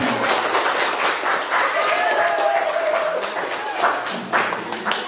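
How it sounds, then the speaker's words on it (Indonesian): An audience claps for the trainers of a calligraphy workshop at a school in South Aceh, a dense burst of close applause lasting the whole moment with a few voices mixed in. "Tepuk tangan untuk mereka."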